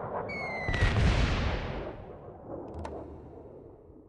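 Artillery bombardment in the Civilization 3 strategy game: a loud booming blast with a rushing rumble that decays over a couple of seconds, followed by a fainter crackling burst.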